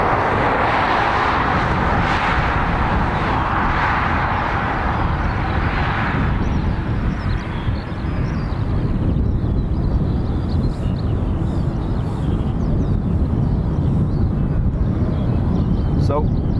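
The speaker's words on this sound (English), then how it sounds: "So WestJet Max 8 heading back to Toronto." WestJet Boeing 737 Max 8 at Dublin Airport, a loud, steady jet engine roar that holds through the whole stretch and eases slightly partway, mixed with wind rumble.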